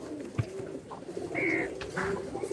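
Madrasi pigeons cooing inside a loft, soft low murmuring coos with a brief higher call, close and steady over a dense background of flock noise.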